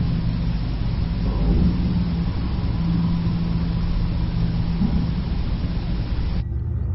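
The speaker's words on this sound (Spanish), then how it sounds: "Se oyen coches y se oyen motocicletas" Distant street traffic of cars and motorcycles rumbles along as a steady low wash of engine noise, with a faint engine drone swelling briefly midway before the sound thins out near the end.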